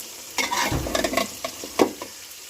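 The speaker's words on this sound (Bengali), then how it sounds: "লাউগুলো পাঁচ মিনিট মতো কষাবো এবং পানি দিব না কারণ লাউ তো রসালো সবজি" Chopped bottle gourd stirred in a hot pan with no water added. Brisk scraping strokes of the spoon sound over a soft, continuous sizzle, close and clear.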